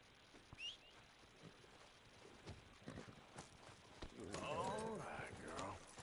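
Horse hooves clip-clop at a walking pace in Red Dead Redemption II, steady close thuds with a short whistle early on, while people talk over the second half.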